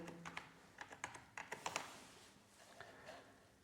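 Fingers type a category name on a computer keyboard in quick, uneven bursts of soft key taps, faint and close, with no talking.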